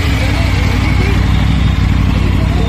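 A white Triumph Tiger 900 motorcycle's engine runs steadily close by, a continuous low, even drone with no clear revving.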